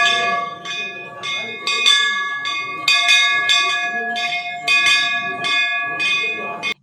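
A touch-free, sensor-activated temple bell in Mandsaur rings out loud and close in a quick series of about a dozen metallic strikes. Each clang rings on and overlaps the next.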